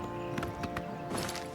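Horse hooves clip-clopping while riding in Oblivion Remastered, a short, fairly quiet run of uneven hoof knocks over steady game ambience.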